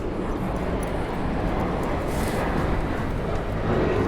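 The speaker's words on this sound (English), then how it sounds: "You're hearing that airplane right now." A broad, steady roar of an airplane passing overhead, loud and constant throughout, with no voices.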